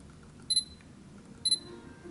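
A Sony camera shutter fires twice, about a second apart, each a short sharp double click, close and clear over a quiet indoor background.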